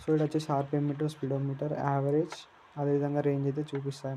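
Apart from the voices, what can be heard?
None of the usual background noises is heard.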